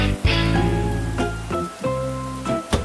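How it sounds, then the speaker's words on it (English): Steady hiss of sudden cartoon rainfall beneath a bright, plucked musical tune with changing notes. "A sudden rain makes Peppa grab her colorful umbrella"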